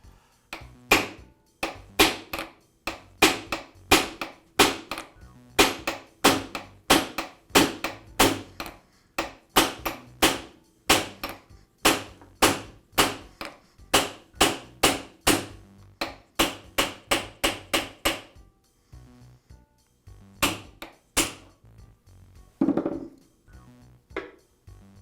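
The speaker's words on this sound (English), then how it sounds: "I will be hitting it with a hammer to" Repeated sharp metallic hammer blows strike a socket at a steady rhythm to drive out the arbor shaft of a DeWALT chop saw, dozens in a row, then a pause and a few final heavier hits.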